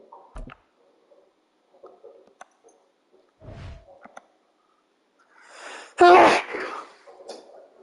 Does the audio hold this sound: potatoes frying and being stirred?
no